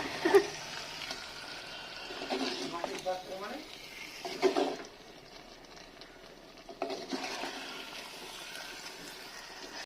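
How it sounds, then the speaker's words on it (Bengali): Water going into a clay pot of handi chicken and being stirred, heard as several separate bursts of splashing and scraping that alternate with quieter gaps, close by, with a voice talking at times. "মা এখানে এইটুকুই জল দিচ্ছে, বেশি জল দেবে না"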